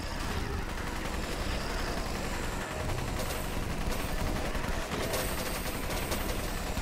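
Rapid, dense turret gunfire in the zombie shooter video game Guns N Zombies, loud continuous bursts with overlapping shots and rumbling effects filling the whole stretch.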